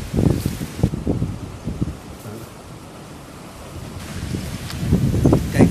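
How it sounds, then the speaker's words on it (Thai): Strong storm wind buffets the microphone in heavy roaring gusts, loudest at the start and end with a calmer lull in between. No one speaks. "ลมเริ่มมาแรงแบบดีขึ้นหน่อยนะ"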